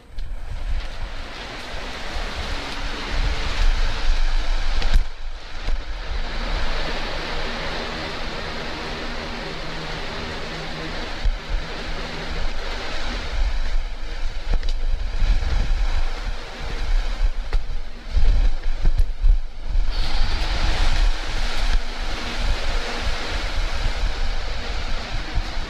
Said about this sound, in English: Let me move the fan so it's not blowing on the mic.